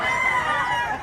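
A Gilmore Hatch gamecock rooster at a Cebu fowl market crows loudly and close, its strained, drawn-out call filling the short moment with no other voices.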